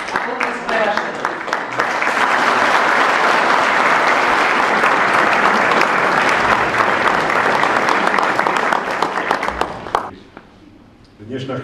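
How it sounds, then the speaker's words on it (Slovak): A firefighters' ceremony audience breaks into loud, sustained applause, dense clapping from a large crowd lasting about ten seconds before it abruptly stops. Voices murmur briefly at the start and again after the clapping ends. "potlesk pre vás všetkých"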